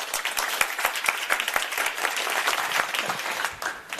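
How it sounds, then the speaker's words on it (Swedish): An audience at a public debate on jobs in Lund, held at Medicon Village, breaks into warm applause, a dense, even roomful of clapping that carries on steadily and eases off at the end. "En applåd tycker jag."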